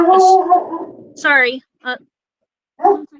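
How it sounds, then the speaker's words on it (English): A dog in the room gives a few close yips and whimpering barks mixed in with a person's voice, followed by short bursts separated by silence. "That's my dog."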